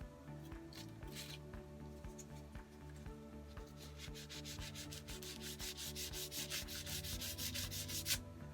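Rubbing to clean the blade of a Norse knife, repeated scrubbing strokes that grow denser and louder toward the end, close up with no talk.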